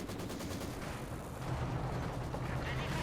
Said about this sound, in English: Mortar fire flying all over the place.